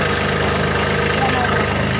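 A tractor's diesel engine idles steadily right after starting, a close, even, low chugging rumble holding through the whole stretch with no voices over it.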